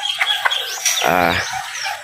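A hen clucks among her chicks, a few short soft clucks followed by a longer, louder warbling call, close by with no talking.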